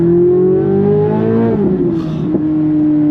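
A 2023 Chevrolet C8 Corvette Z06 engine drones loud and steady from inside the car while driving, pitch rising then easing off as it shifts down, continuous with no talking.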